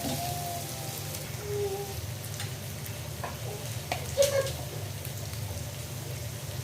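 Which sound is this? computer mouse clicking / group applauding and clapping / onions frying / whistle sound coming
onions frying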